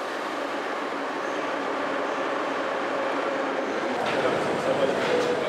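A Moscow metro subway train riding underground, a steady loud rumble and rush of the moving carriage throughout with a faint squeal of wheels near the end.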